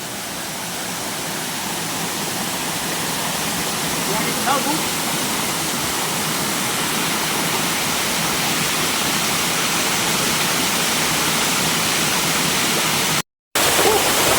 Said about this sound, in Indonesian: Ini air terjun yang pertama.